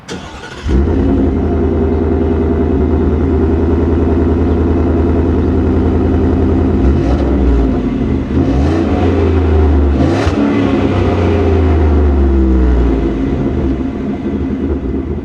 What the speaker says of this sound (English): This is the 4th generation 5-liter V8.